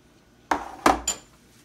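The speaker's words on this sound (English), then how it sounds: "Gonna put this in the oven" Three sharp metallic clanks close by as a cake pan of strawberry cake batter is set into an oven, with quick knocks of pan against rack and near silence around them.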